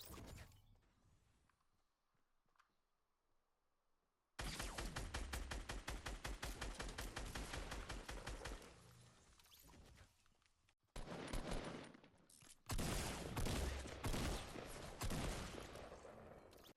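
Rapid bursts of Fortnite gunfire, loud and close, come in dense clattering volleys after a quiet start, with a short break before the shooting resumes.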